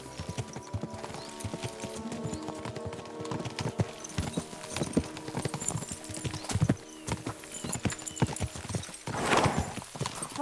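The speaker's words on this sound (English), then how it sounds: "We should spur the horses on!" Horses gallop in Kingdom Come Deliverance 2, their hooves clip-clopping in a rapid, steady rhythm throughout, with a whinny near the end and a faint background score.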